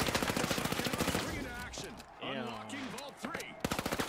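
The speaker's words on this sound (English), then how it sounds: "All three of us just shooting that fucking gun right there" Rapid gunfire from The Finals, a fast rattling burst of shots, with people talking over it in the middle before the shooting resumes.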